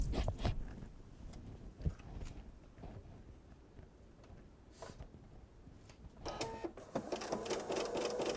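Sewing machine stitching a table runner, quiet bursts of clattering stitches and clicks, with a faster, busier run of stitching toward the end.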